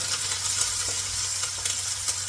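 Ginger, garlic, curry leaves and shallots sautéing in hot oil for Kottayam-style fish curry, a steady close sizzle with occasional light stirring clicks and no speech.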